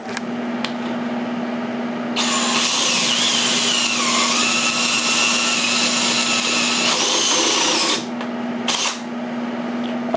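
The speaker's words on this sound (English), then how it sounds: "I'm gonna drill those out now" A power drill whirs loudly and steadily for several seconds, drilling holes in a radiator support for a 1JZ-swapped Nissan S13 hatchback, pitch dipping under load, then stops and gives a brief second burst over a low hum.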